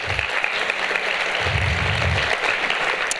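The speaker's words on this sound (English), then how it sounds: "a big round of applause for her and her team" An audience at a member speaker series on Christmas floral design applauds a designer and her team, a steady, full round of clapping that holds at an even level throughout.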